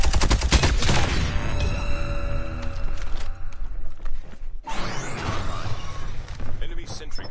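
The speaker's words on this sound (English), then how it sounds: "Enemy sentry gun." Loud, rapid bursts of automatic gunfire from an enemy sentry gun in a Call of Duty match, dense volleys crackling up close, dropping briefly before resuming with further shots.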